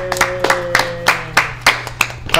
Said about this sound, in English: Clapping for ourselves.